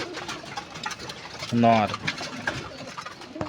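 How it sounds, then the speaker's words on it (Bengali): A pigeon coos once, a short rolling call near the middle, in a loft holding single pigeons and nesting pairs with chicks, while someone talks throughout. "এখানে কিছু সিঙ্গেল কবুতর আছে"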